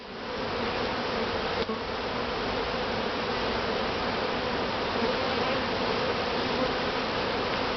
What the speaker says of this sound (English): They're like all these bees on it.